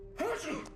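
A single short sneeze bursts out in a quiet indoor scene of a horror video game, loud and close against a faint steady hum.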